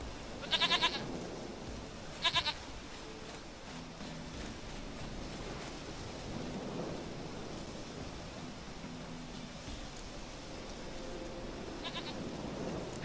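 Goat bleating in The Witcher 3 game, two short wavering bleats close by near the start and a fainter one later, over a soft outdoor ambience.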